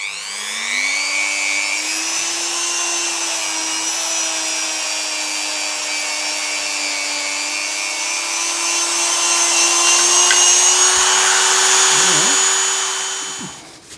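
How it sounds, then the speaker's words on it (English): A small buffing pad spins steadily against a restored knife handle, a continuous whirring drone with a rising pitch at startup and slight rubbing variation, close and loud before winding down at the end. "What we can do though is we'll buff those out with the little buffing pad."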